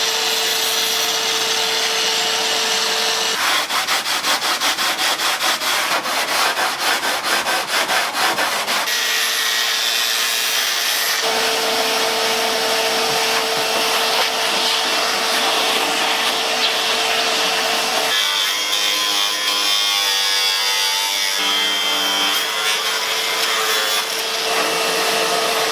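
A brand new car bumper is cut in half and trimmed with a power tool, giving loud continuous grinding and buzzing cuts that change pitch and texture between passes, with a rapid rattling stretch early on and no talking.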